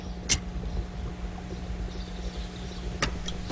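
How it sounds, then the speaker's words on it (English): An engine starts up in Sherlock Holmes: Crimes and Punishments, settling into a steady low mechanical hum. A few sharp clicks sound early and near the end, with no talk. "The engine has started."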